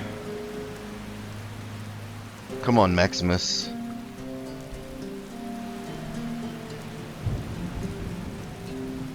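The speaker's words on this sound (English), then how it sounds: "And this rain is really heavy. And the thunder really shouldn't have come out." Heavy rain pours steadily in Skyrim while a loud roll of thunder breaks early on, with a voice speaking briefly over the downpour.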